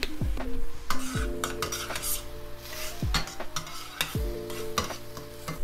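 Onions and mushrooms sizzle in oil in a pan while a utensil stirs and scrapes, with several sharp clanks against the pan over steady frying.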